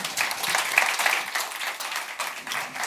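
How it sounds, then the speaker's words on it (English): An audience claps for a panel at the close of a conference session on AI, a dense, close burst of applause sustained throughout without talk. "Please thank my panel with a round of applause."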